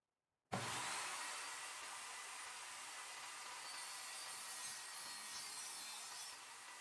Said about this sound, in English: I took the template to my bandsaw to cut out the actual design.